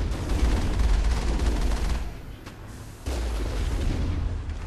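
The Mako tank's cannon firing in the video game Mass Effect, a dense roar of booming blasts filling the clip, dropping briefly before surging back loud.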